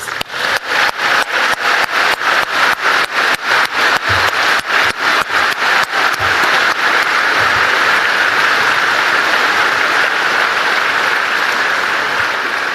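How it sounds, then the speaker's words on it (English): A large crowd at an outdoor Brexit Party rally in Cornwall bursts into loud applause, starting with rhythmic unified clapping that dissolves into a sustained roar of clapping and cheering. "give them all a big round of applause."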